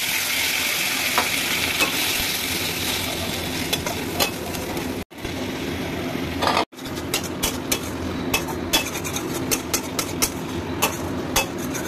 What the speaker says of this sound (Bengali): পনিরটাকে না আমি হালকা হালকা ভেজে নেব